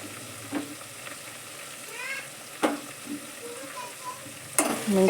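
Chili powder stirred into frying tomato pieces for alu kurma, a soft sizzle under scattered scrapes and clacks of a spoon against the pan, a few louder knocks standing out, quiet and close with no talk.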